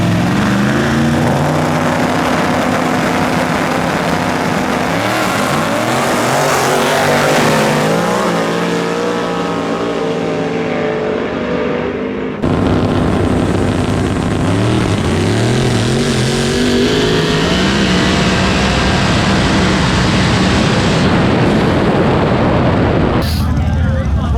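A race car engine roars loudly and continuously on a track, its pitch sweeping up and down as it speeds past, with a brief break midway and a dense, noisy mix throughout.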